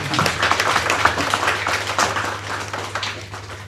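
An audience applauds at a prize-distribution celebration, a steady mass of clapping that holds evenly for several seconds at moderate loudness, with a low hum running underneath.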